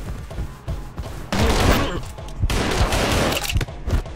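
Gunfire in the first-person shooter Anger Foot, heard as loud, dense bursts of rapid shots in two long stretches, with short quieter gaps and game sounds between them.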